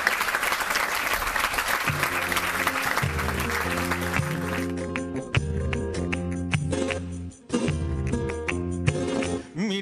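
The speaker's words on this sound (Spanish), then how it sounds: "Un fuerte aplauso para ellas" Applause from a studio audience greets a flamenco school's dancers, broad crowd clapping that soon gives way to loud music with a strong rhythmic bass line.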